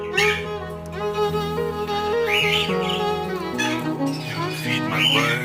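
Pet parrots chirping and whistling indoors, a dense mix of bright, warbling calls and squawks that continues without a break, close and fairly loud.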